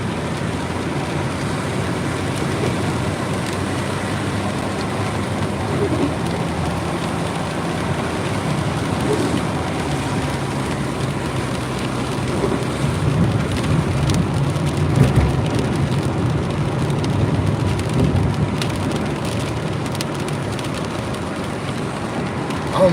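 Heavy rain pounds steadily throughout, heard from inside a car during live food deliveries, with broadband wash and no speech.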